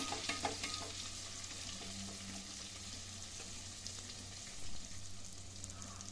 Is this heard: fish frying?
yes